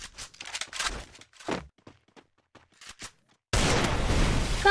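Several sharp video-game gunshot bursts with brief gaps between them, then a loud, sustained blast of noise that runs to the end.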